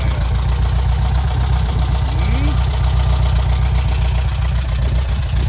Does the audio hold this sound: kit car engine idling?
yes